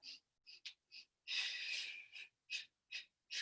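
Deep breathing during a Pilates mat exercise: a run of short, close breaths in a loose rhythm, with one long, drawn-out exhale in the middle, and no talking.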